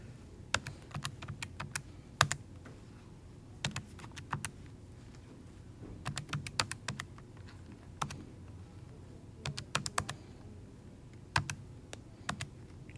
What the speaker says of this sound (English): I'm going to type that in my calculator just like so.